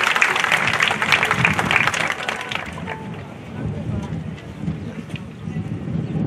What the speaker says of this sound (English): So let's give a round of applause to all the parents out there.